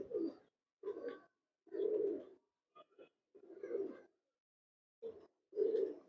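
Pigeons at a bird show coo in a series of soft, low, throaty phrases separated by brief pauses, close and clear with no talk over them.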